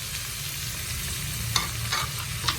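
Onions and soya chunks sautéing in a pan for soya chunks pirattu, a steady close sizzle with a few sharp scraping stirs near the end, no talk.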